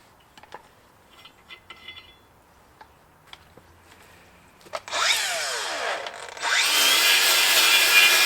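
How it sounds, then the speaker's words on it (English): A wire brush on a grinder cleans rusty studs on a 2000 F550 dually dump truck, starting after a few light taps with a loud, sustained abrasive whir, a brief dip, then a louder steady grind. "a little wire brush and a grinder will do the trick"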